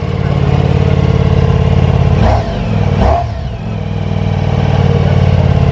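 Ducati V4 Superleggera motorcycle engine running loud and close with a dense, steady idle, swelling in two quick revs midway before settling back to a rumbling idle.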